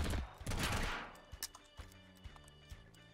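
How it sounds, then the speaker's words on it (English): Gunfire in Totally Accurate Battlegrounds: a dense burst of shots over the first second, then a string of single sharp reports spaced apart over a faint background. "I'm shooting him in the knees"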